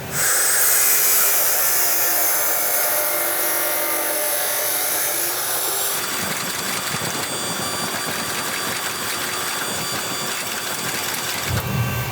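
Loud high-pitched grinding whine of a power tool cutting the end off a twisted steel chainsaw-chain Damascus billet, shifting in tone midway and stopping abruptly near the end.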